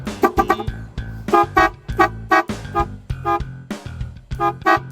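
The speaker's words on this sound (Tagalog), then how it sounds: "So ito na yung busina natin." Several loud, close horn toots in short bursts, some double and some longer, alternating between two slightly different tones with brief pauses between.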